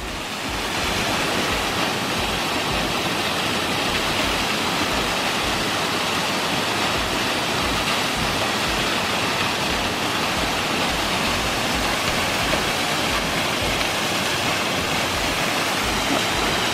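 Waterfall at Lac de Guéry near Mont-Dore pours with a loud, unbroken rush of water, steady and close throughout.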